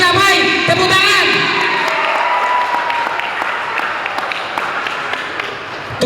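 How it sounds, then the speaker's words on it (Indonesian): An audience at a Batak clan ceremony in Indonesia bursts into loud, dense applause that slowly thins over several seconds, with voices calling out and a speaker talking over the clapping at the start. "Tepuk tangan."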